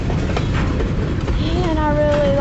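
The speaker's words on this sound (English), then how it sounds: "this is a train from last night at 3 o'clock in the morning" A Kiamichi Railroad train passes in the middle of the night, a steady loud rumble of rolling wheels with a thin, rising squeal or whistle tone emerging in the final second.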